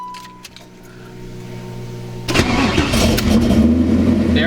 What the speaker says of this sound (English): Let's try starting the car.